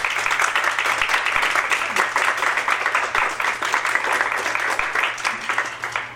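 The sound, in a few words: applause at forum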